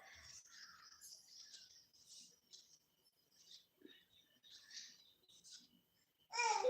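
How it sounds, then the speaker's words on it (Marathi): Faint, high-pitched bird chirps flutter on and off in the distance, scattered and irregular against a quiet background. "हो आला आवाज ऐकायला पक्ष्यांचा किलबिलाट तुमच्या इथं"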